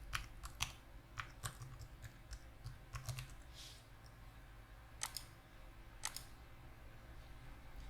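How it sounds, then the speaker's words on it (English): Quiet, clicky typing on a computer keyboard, short clusters of sharp keystrokes with pauses between them, close and alone. "Type in the production test environment."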